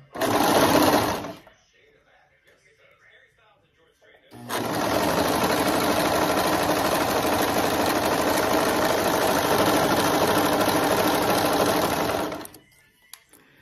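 A sewing machine stitches diaper fabric in two runs: a short burst, a pause, then a long, steady, even whir lasting several seconds before it stops.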